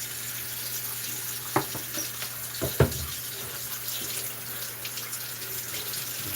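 Hot water running from a sink tap during live-streamed dish cleaning, a steady hiss of flow with a few brief clatters of dishes near the middle, fairly quiet and with no talk.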